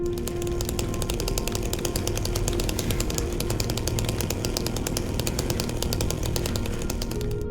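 An unlockable chainsaw weapon in the Silent Hill 2 Remake runs continuously, a loud, buzzing, rattling engine drone that holds steady throughout with no pauses.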